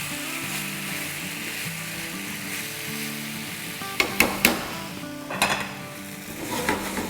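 Chicken frying and being stirred in masala in a pan, a steady close sizzle with several sharp clinks of a utensil against the pot partway through.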